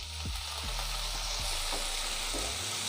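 Chopped ripe tomatoes with green chillies sauté in a hot pan for an Andhra-style kara boondi kurma, a soft steady sizzle broken by a few stirring scrapes, quiet and close with no voices.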